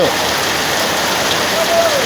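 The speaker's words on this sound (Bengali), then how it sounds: "মশল ধারে বৃষ্টি হচ্ছে আর বৃষ্টির সাথে সাথে" Steady, dense torrential rain pours down without a break, a continuous loud hiss of drops hitting surfaces, during a thunderstorm.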